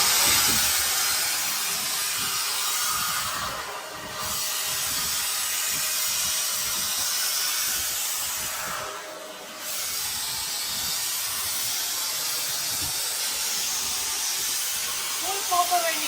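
A Powerbilt PBT-AG4-1100 4-inch angle grinder, 1100-watt motor rated at 11,000 RPM, runs with a steady high-pitched whine and hiss, dipping briefly twice as the load changes. A voice talks faintly underneath.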